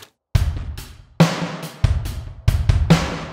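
A short loud drum groove from a virtual drum kit, unprocessed: punchy kick and snare hits with crashing cymbals ringing, played back dry and close with no talking.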